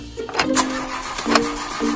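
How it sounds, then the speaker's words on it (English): A car engine cranks without catching, repeated whirring starter bursts in a short uneven rhythm, close and fairly loud, with no speech. "It seemed like my car is not starting"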